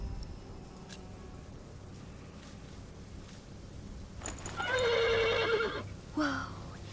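A horse in The Pillars of the Earth video game lets out a loud, shaking whinny lasting about a second, then a shorter snort or second neigh. A quiet low hum sits underneath and a few soft knocks come before it.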